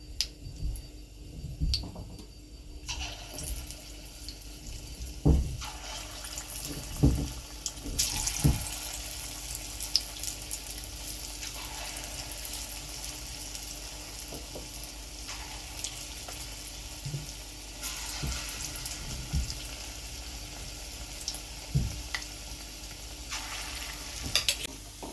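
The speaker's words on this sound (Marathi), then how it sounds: "तेल तापले आपलं, आपण चमच्याने छोटे छोटे टाकायचे।" Spoonfuls of moong dal bhaji batter frying in hot oil over medium heat, a steady soft sizzle with occasional clinks and scrapes of a spoon, fairly quiet and continuous.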